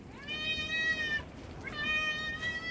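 A cat meows twice in a village setting where fish is being cleaned, each call a long rising-then-falling tone with clear harmonics, close and fairly loud over a faint background hiss.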